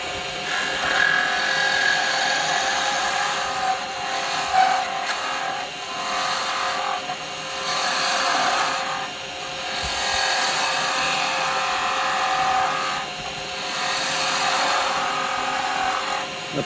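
Wood spinning on a lathe while a skew chisel cuts it for pen blanks: a steady, whirring scrape with a faint high whine that swells and eases slightly over about seventeen seconds, with no voices.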